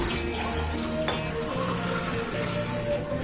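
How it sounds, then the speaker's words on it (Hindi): Water pours steadily into a cooking pot for boiling spaghetti up close, a bubbling, splashing stream that keeps going throughout. "अब इस टाइम पे हम इसमें पानी डालेंगे"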